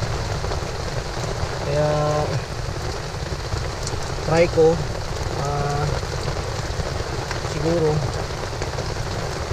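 Heavy rain pours steadily on surfaces at a campsite, a dense, loud, continuous patter through the whole span, while a person talks over it at intervals.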